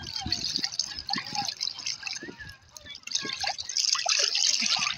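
Sea water at Kavala, Greece splashes and trickles around a swimmer being pulled along, with small, close dribbling splashes and a voice speaking intermittently over them.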